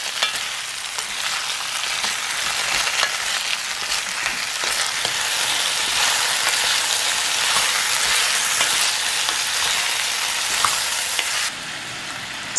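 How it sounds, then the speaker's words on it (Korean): Butternut squash stir-frying with leek and garlic for a soup, giving a dense, steady close-up sizzle with faint stirring scrapes, which drops slightly near the end. "파와 마늘의 향이 진하게 올라오면 버터넛 스쿼시를 넣어 골고루 섞으면서 7분간"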